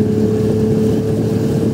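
Outboard motor on a HirösYacht HY5.00Fish boat hull pulling away during a propeller test, giving a steady, loud droning hum with a constant engine tone and no talk.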